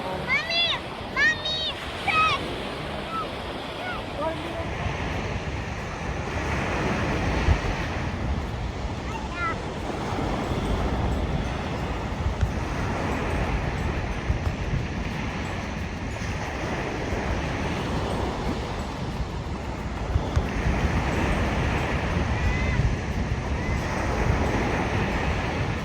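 Steady broadband roar of wind and surf on a cold, windy beach at Riccione, with wind buffeting the microphone throughout; people talk briefly near the start.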